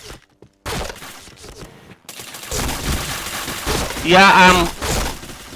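Gunfire in the Point Blank video game crackles in rapid bursts with shattering impacts, loud and close, while a voice talks over the shooting.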